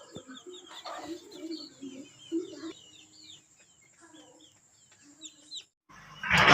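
High, thin peeps of a native Siruvidai chick repeat in quick bursts over a low background rustle, ending in a sudden loud burst of noise.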